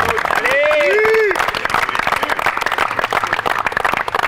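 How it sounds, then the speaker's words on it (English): Applause at a college tennis senior day ceremony: a crowd clapping steadily for several seconds at moderate loudness, with a brief whistle or cheer near the start. "So a round of applause right there"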